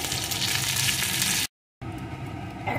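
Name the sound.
pointed gourd (potol) frying in oil while stirred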